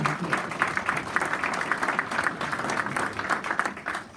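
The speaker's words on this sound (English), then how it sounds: "So I would just like us all to graciously give Dwayne a round of applause for being here." An audience at a community meeting about a hotel claps steadily for a few seconds, a dense patter of hands filling the room without any talking.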